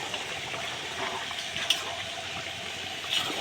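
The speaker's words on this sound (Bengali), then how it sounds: "এখন আমি এর ভিতরে জল দিয়ে দেব" Water is poured into a pot of beef curry that has been frying in oil, giving a steady close splashing and sizzling wash with no talking.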